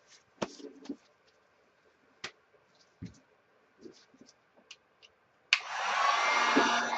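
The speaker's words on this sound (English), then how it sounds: "There's a heat gun." A heat gun switches on suddenly and runs with a loud, steady blowing roar over resin, after several seconds of scattered light clicks and taps.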